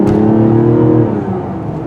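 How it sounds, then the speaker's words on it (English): A 2024 Mazda CX-90's engine revs hard under heavy acceleration, a loud, close growl holding a steady pitch before easing off and fading slightly near the end. "This thing really growls when you press it hard at high RPM."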